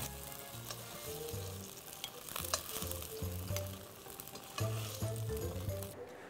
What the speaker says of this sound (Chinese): 这个豆腐呢只要煎到金黄上色